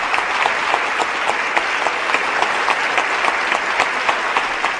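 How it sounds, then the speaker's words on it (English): Dense, sustained applause from a large audience at a Connecticut governor's budget address, steady clapping filling the whole stretch with no speech over it. "I'm sorry about all the applause"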